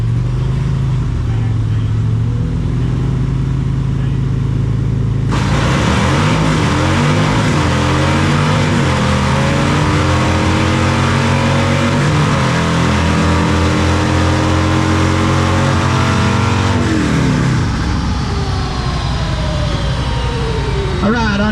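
Drag racing car at a Spring Fling Rally idling at the line, then launching hard down the strip in first gear with a loud, sustained roaring engine that climbs in pitch before easing off near the end.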